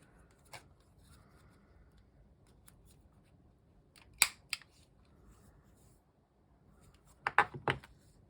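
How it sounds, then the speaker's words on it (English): Scissors cut paper at the edge of an accordion journal page in a few short, crisp snips separated by quiet pauses, close and fairly faint, with no talking. "I'm going to cut it right at the edge so that white goes away."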